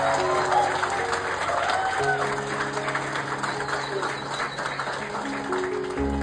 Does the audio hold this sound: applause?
yes